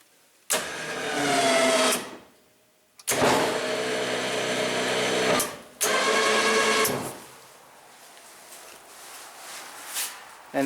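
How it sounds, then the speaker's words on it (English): A winch on an Arctic Cat Wildcat raises a quick-attach plow in three whining electric motor bursts of about two seconds each, close by, followed by quieter mechanical clunks. "Then come around, raise up your winch."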